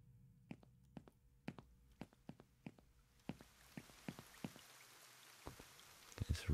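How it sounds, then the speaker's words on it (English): Heavy rain falls outside in a horror nightshift video game, heard as scattered, irregular drips and taps that thicken into a steadier patter toward the end. "It's raining cats and dogs outside."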